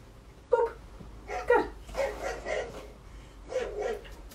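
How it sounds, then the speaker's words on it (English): A Doberman's barks played back as a sound effect, several sharp, fairly loud barks in an uneven series with brief pauses, the last one coming after a longer gap. "we're going to go back to that Doberman just because that was kind of a better bark than that Boston"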